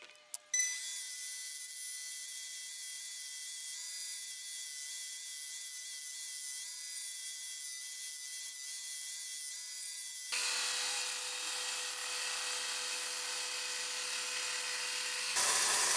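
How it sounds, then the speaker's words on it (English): A bandsaw cuts fins for a homemade dust collector impeller, giving a thin, steady high-pitched whine that shifts to a harsher, louder rasp partway through as the blade bites, with no talking. "I just cut it with my bandsaw"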